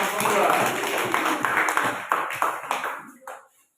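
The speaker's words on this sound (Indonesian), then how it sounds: "tepuk tangan untuk kelompok 2" Classroom of students clapping for a presenting group during a lesson on the properties of light, a dense burst of many hands close by that thins into a few scattered claps before fading out.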